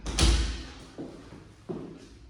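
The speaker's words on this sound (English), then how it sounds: "Close this door." A bedroom door closes in a house with hardwood floors: a loud close thud is followed by two softer knocks or taps, all close by and with no talking.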